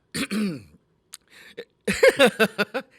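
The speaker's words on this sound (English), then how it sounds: "I got to clear my throat." A person clears their throat with a few rough, guttural rasps, close up, broken by short pauses.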